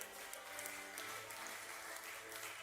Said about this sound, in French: Est-ce qu'on peut applaudir pour eux, s'il vous plaît?